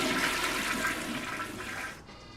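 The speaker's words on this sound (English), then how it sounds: "Sitting there coding and just hearing the toilet flush beside you." A toilet flushes nearby, a loud steady rush of water that fades out near the end, with no voices.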